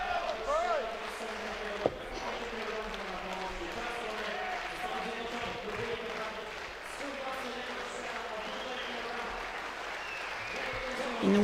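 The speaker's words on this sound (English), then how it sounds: "People are cheering him on." A heavyweight men's powerlifting crowd at the World Games 2017 applauds and cheers steadily for a lifter's attempt, a dense continuous roar of clapping and shouts with a commentator talking over it.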